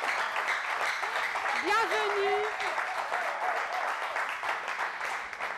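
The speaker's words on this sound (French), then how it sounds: "mais applaudissez pour nos fonctionnaires" An audience applauds civil servants at a promotional show event, with steady clapping throughout. A voice speaks over the applause, and a brief whistle or electronic tone rises partway through.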